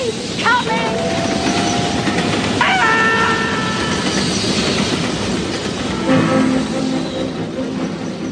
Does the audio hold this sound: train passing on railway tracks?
yes